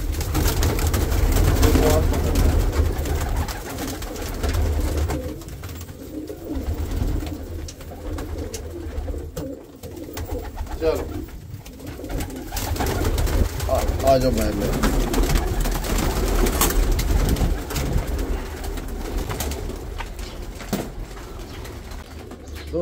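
Teddy pigeons with feathered feet coo in repeated low, throaty murmurs over a persistent background rumble, with a brief flutter of wings now and then.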